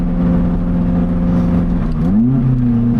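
A warmed-up car engine drones steadily on a twisty mountain road, then its pitch dips and climbs again as the driver shifts and revs harder, loud and close from inside the car.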